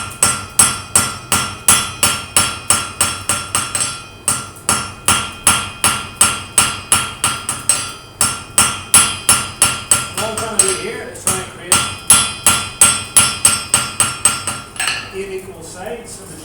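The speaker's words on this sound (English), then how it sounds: "You can also notice I'm using a smaller hammer." Blacksmith striking hot metal with a smaller hammer to form eight equal sides, a fast steady run of ringing, clanking blows with only brief pauses between bursts.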